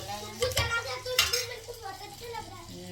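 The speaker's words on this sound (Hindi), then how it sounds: "अब मैंने बनाई है दाल, तो बस उसका तड़का रेडी कर रही हूँ" Pots and utensils clink and stir in a home kitchen while dal is cooked and its tadka tempering is readied, with soft sizzling between the clatters and faint voices in the background.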